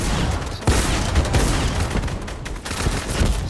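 Dense, continuous gunfire in a shooter video game, a loud sustained barrage of overlapping shots with a few sharper cracks standing out, no voices.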